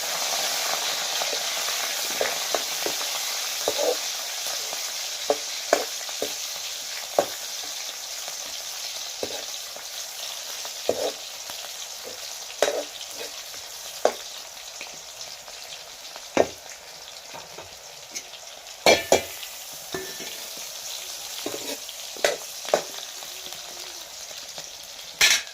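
Oil sizzles and fries steadily in a pan as chillies are tempered, with scattered clicks and light spoon taps against the metal throughout, no voices.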